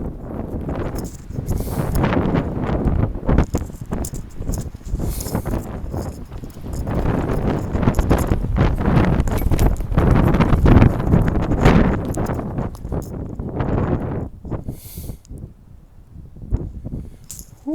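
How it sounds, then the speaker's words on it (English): Wind gusting across a hiking trail, a steady broadband rush that swells and fades over many seconds, with scuffing footsteps underneath and no talking. "Ooh, that wind though."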